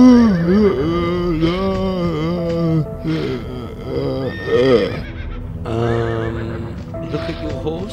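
A horse in the video game Limbo of the Lost neighs repeatedly in loud, close whinnies with wavering pitch, several calls in a row with short gaps between.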